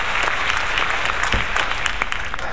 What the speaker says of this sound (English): Oh, please, stop applauding.